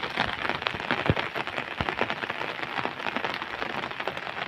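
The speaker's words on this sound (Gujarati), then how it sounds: "મધરો વરસાદ ચાલુ છે અત્યારે. હવે દબાણ વધતું જાય, વરસાદ ખૂબ જ થતો જાય છે." Heavy rain pours down in a village, a dense, continuous hiss of drops drumming on surfaces with scattered louder splats, steady and close.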